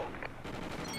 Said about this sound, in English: Oh, fucking shotgun